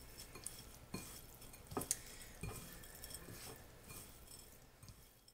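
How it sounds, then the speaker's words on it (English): Ground beef is worked together with cracker crumbs in a bowl for meatballs, giving soft, close squelching and stirring with occasional light clinks against the bowl. "So just start mixing that all up in there."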